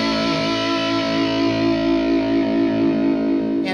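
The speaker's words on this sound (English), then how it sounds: "You can also goose the front of a distortion pedal with a boost if you want to achieve a little bit more gain." A guitar runs through a distortion pedal pushed harder by a boost pedal in front, giving a thick, saturated sustained chord that rings steadily and loud with no talk.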